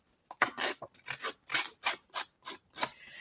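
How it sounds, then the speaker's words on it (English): A scissors blade scrapes along the edges of paper to distress them, about nine short, rhythmic rasping strokes, close and fairly loud with silence between. "I'm taking the blade of my scissors and just going along the edges like that."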